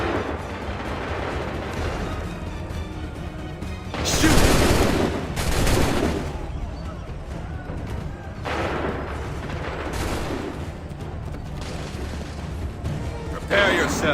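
Musket volleys in the video game Assassin's Creed III, dense bursts of crackling gunfire that swell into loud booming salvos, with shouting voices and battle noise throughout.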